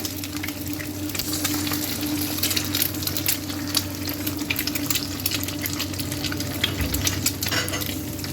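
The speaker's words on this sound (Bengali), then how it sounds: "তারপরে দুটো ডিম ফাটিয়ে ওর মধ্যে নুন গোলমরিচের গুঁড়ো দিয়ে ডিমের ভুজি করে নিলাম" Beaten eggs with salt and ground black pepper scrambling in hot white oil in a wok, a continuous close sizzle with scraping stirs and a faint steady hum, no talking.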